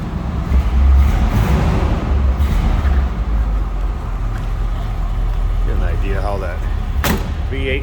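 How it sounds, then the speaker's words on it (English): A car door on a 1964 Buick Riviera slams shut once with a sharp thud near the end, over a steady low rumble that runs through the whole stretch. "Door closes nicely."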